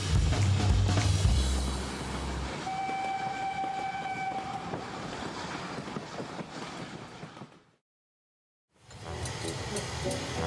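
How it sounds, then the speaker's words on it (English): The British Royal Train departs with a loud rumbling roll of rail wagons and a sustained horn tone midway, fading out and then the rolling noise returns after a short silence. "All aboard the Royal Train."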